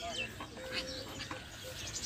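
Exotic birds calling on a village farm, with a duck-like shelduck and its chicks among them, giving scattered chirps and calls at a moderate distance over a steady outdoor background.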